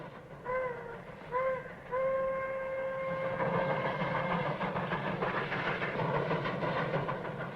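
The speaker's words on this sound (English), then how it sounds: "Smokestack's rolling that train. No wonder they're making such good time." A steam train whistle sounds in short blasts, then a long sustained tone as the locomotive chugs and rumbles along the rails, loud and close.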